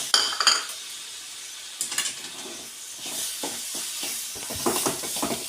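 Coarsely ground chana dal is tipped into a pan of sweet filling and stirred, bringing metal spoon clinks against the pan, then repeated scraping strokes over a soft hiss, close and moderately loud.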